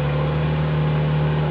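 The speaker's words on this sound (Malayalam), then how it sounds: "ഈ വണ്ടിയിലാണ് കേട്ടോ ഞങ്ങൾ ഇന്നലെ കയറി വന്നത്." An off-road four-wheel-drive vehicle runs on a rough unpaved hill road near Kodaikanal, its engine holding a steady, close, continuous drone with no break.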